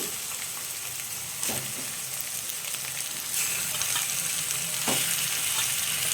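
Chicken and onions sizzle steadily in a hot pot, a close crackling hiss with occasional clatters of stirring and pieces of 1 kg of chicken dropping in.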